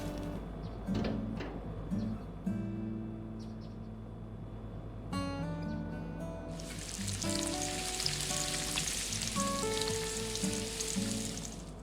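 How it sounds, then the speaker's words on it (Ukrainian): Steady bright sizzling of eggs frying in a pan fills the background, growing louder partway through, with occasional clinks and clatter of kitchen items and soft music underneath. "посмажу собі яйця на сніданок"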